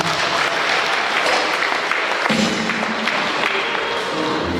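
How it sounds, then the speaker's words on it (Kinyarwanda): Audience applause at a community gathering attended by local officials, women's groups and partners: dense, steady clapping from a crowd that continues at an even level throughout, with no pause. "Murize amashyi hanyuma dushimire."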